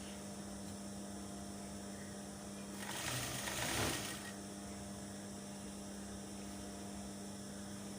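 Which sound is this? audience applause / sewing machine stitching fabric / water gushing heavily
sewing machine stitching fabric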